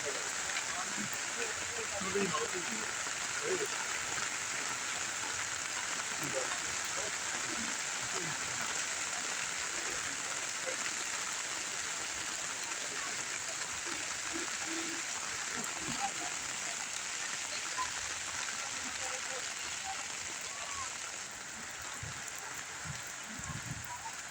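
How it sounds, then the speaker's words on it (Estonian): Steady rain falling outdoors at an antiques fair on the grounds of Seidla manor, a continuous hiss of drops with scattered patters on nearby surfaces, evenly loud throughout. "Vihmas sajab."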